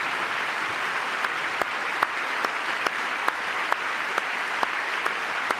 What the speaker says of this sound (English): Yeah, you got to clap for her.